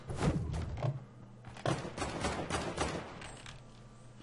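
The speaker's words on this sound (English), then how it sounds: "I hear a gunshot." Sharp video-game gunfire cracks ring out in a quick irregular burst, punchy thuds scattered over a few seconds against a noisy background.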